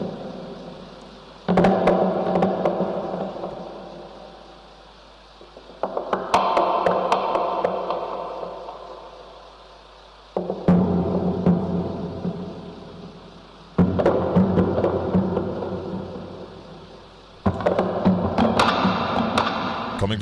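Bamboo burning and crackling in bursts of sharp pops and snaps, several loud surges separated by quieter gaps, heard close with a low rumble beneath.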